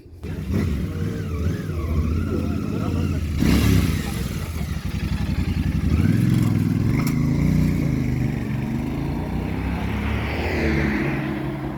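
A motorcycle engine revs and pulls away, its rumble rising then holding steady nearby with some clatter, no talk.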